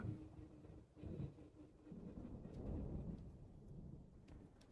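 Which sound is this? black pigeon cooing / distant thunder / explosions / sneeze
distant thunder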